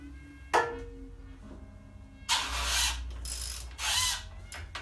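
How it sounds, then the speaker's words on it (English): A ratchet loosens the top caps on the forks of a Honda CB600 Hornet F3 motorcycle, with several short bursts of clicking separated by quieter pauses, close and clear. "you don't need to take it all the way, just lightly undo the top caps"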